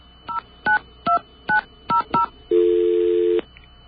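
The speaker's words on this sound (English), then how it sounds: "Let's dial WBAI first, so that you know just what we're dealing with." Touch-tone keypad dialing a radio station's number on a telephone line: six short two-tone beeps in quick succession, then a longer steady tone, clear and close with no talking.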